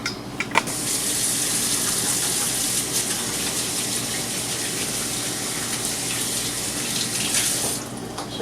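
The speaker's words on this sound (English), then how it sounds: "Let me wash my hands." Hands are washed under a kitchen tap, water running strong and steady with light splashing, close by, and then cutting off at the end.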